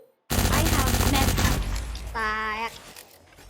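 Rapid gunfire bursts in the Cyber Hunter video game, loud and tight for over a second, then fading into a short tonal game sound as a voice talks over the action.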